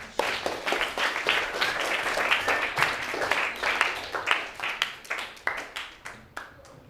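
Students in a biology class at an Islamic junior high school applaud together, a steady wash of many hands clapping for several seconds that thins out and fades toward the end.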